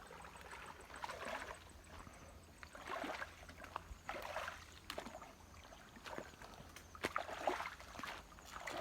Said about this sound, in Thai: น้ำไหลน้ำใส